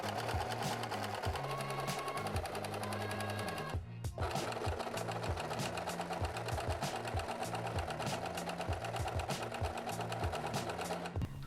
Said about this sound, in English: Well, it is sewing and it's not breaking the thread.